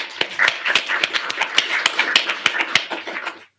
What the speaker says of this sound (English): we'll give her an absent round of applause